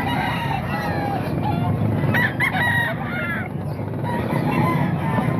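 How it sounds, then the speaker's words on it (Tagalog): Chickens at a market stall in Baliwag, Bulacan, with a rooster crowing near the middle of the clip amid steady background crowd noise and clucking. "Dalawang manok"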